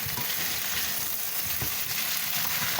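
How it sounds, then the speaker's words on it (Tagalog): Garlic and onions sauté in a hot pan for a chicken curry, giving a steady, loud, close sizzle and frying hiss with faint stirring scrapes and no voices. "So I saute the garlic and onions"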